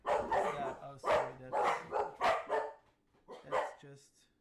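Nervous pet dogs bark repeatedly indoors, reacting to neighbors outside: five or six sharp, close barks in quick succession, a short pause, then a couple more barks, clear and fairly loud.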